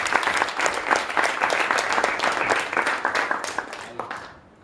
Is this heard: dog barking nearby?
no